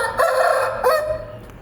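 An Uzbek rooster crows nearby, a single clear cock-a-doodle-doo with a rising middle and a long, falling tail, and no talking.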